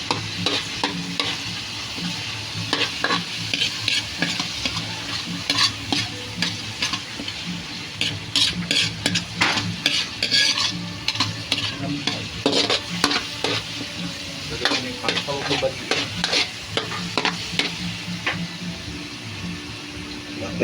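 Garlic and sautéed onion cooking in a pan for pork mechado, with a continuous sizzle and busy, rhythmic stirring and scraping of a utensil against the pan throughout, close and fairly loud.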